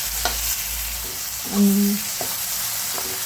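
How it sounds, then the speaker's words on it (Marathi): Spiced, stuffed eggplant shallow-frying in a pan with a pinch of asafoetida, giving a steady soft sizzle with a few brief stirring scrapes and a short tonal clink partway through. "अशा प्रकारे आपले वांगे छान असे फ्राय होतात"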